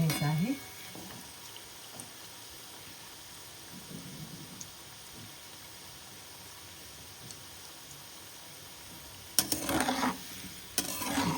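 Potato strips frying in hot oil for homemade crispy french fries give off a low, steady sizzle and bubbling, with louder stirring and clatter bursts near the end.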